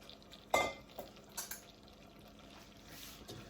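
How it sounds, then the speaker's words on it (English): A spoon scrapes and stirs oats into a thick chocolate mixture in a pot, a sharp clack followed by a few soft, sticky scrapes, quiet and close with no talking. "now once I get this stirred in, just mix it all up"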